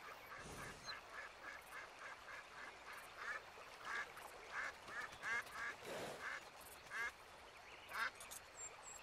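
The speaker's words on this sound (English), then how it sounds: "Are those ducks over there?" Ducks in Red Dead Redemption 2 quack in a steady string of short nasal calls, one after another at a distance in an outdoor setting.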